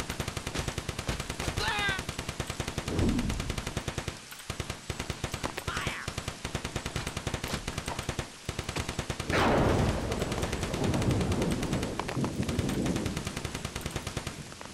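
Machine-gun fire rattles steadily through an ambush in the game Cannon Fodder 3, long sustained bursts with a few brief gaps, joined by swelling blasts and game voice shouts partway through.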